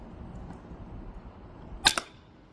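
A single crossbow shot loosed at a tree outdoors, salvaged from a broken bow: a sharp near snap followed by a quick second crack, standing out alone over a low steady background hum.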